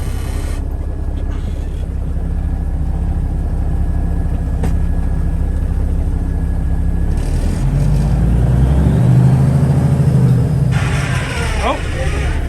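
An abandoned Freightliner dump truck runs with a loud, steady diesel rumble up close while the dump bed is tried, the engine note shifting partway through.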